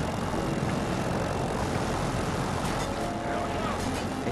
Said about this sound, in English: There's a chopper, there's an Osprey in front of us.